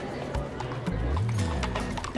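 Horses on the Pony Express re-ride in Arizona, with hooves clopping over a crowd murmur and a low rumble, while people talk nearby.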